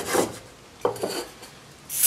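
The iron of a Record No 078 plane is rubbed across a worn piece of 400 grit abrasive in a few short, close scraping strokes with quiet pauses between them.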